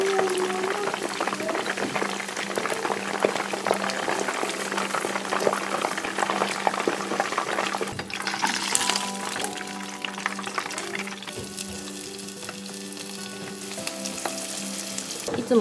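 Salted chicken karaage deep-fries in oil over medium heat, a dense, continuous bubbling sizzle heard up close, easing slightly toward the end as faint tones sit underneath.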